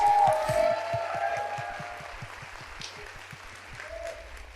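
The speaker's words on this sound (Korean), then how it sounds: "우리 하나님께 영광 박수 올립니다." A church congregation gives a short round of applause during a Sunday service, with scattered claps fading to quiet rhythmic thumps beneath a faint hum.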